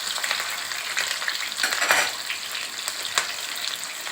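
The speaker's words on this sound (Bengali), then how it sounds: "হালকা করে ভেজে নেব।" Onions sizzle lightly in hot oil while being stirred in a pan, a steady crackling fry broken by scraping stir strokes, close and clear with no speech.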